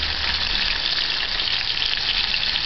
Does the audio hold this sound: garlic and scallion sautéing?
yes